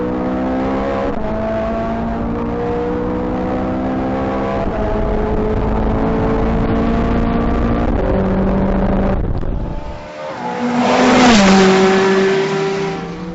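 A 2009 Ferrari 430 Scuderia exhaust roars loud and close under hard acceleration, its harmonic engine note climbing steadily, briefly dropping at a shift, then surging and rising again.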